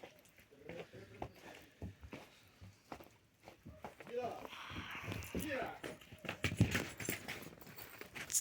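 Hooves clop unevenly on hard ground as horses walk out of a stable on a farm, with people talking nearby and some scuffing and rustling throughout.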